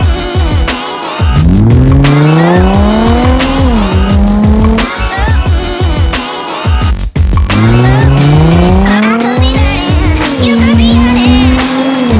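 Nissan G35 with a Z1 Motorsports single exit exhaust revving loud and close, two long rising revs that climb in pitch and hold at high rpm, each followed by a drop back and a short pause.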